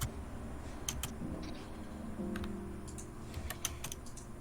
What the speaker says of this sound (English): Okay, I'm just typing it down.